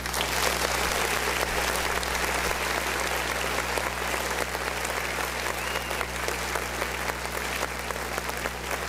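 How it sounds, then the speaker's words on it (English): A crowd claps and cheers in sustained applause welcoming a county sheriff at a live event, a dense continuous roar of clapping over a low steady hum. "Y'all give a big round of applause."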